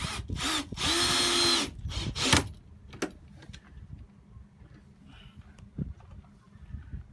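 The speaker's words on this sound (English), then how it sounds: "You hear the clicking, that's the brake." A power drill whirs loudly in a couple of bursts, driving screws into soft pine, then quieter clicks of the drill's brake and knocks of tool handling follow with some faint rattling.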